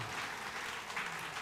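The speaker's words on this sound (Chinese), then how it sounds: "再给这个弟兄掌声鼓励啊！" Church congregation at a youth Sunday service clapping for a young brother, a short, faint burst of scattered applause from the room.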